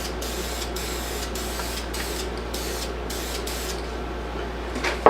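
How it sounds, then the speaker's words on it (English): An aerosol can of Helmsman white primer sprays in one long, steady hiss that lasts about five seconds. It is heard up close indoors, and a faint clunk comes at the very end. "Spray the other half with the Helmsman."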